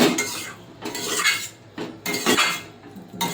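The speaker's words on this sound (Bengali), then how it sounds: "এবার কচুর সঙ্গে মশলা দিয়ে মাথা দিয়ে একসঙ্গে ভালোভাবে কষিয়ে নেব" Taro and hilsa fish head being stirred and sautéed with spices in a pan, with loud metal utensil scrapes and clinks in repeated bursts, close and without talk.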